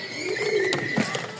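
Pigeons coo softly close by, a low murmuring call that repeats with small bubbling notes against a quiet background.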